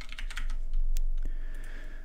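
Fingers tap on a computer keyboard while entering code for a Roblox game script, a quick close run of light clicks with one sharper keystroke near the middle.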